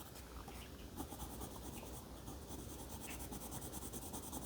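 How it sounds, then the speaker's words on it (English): Colored pencil coloring on paper, a soft, steady scratchy rasp of repeated back-and-forth strokes, close but quiet, continuing without a pause. "don't forget to turn your pencil once in a while as you're coloring"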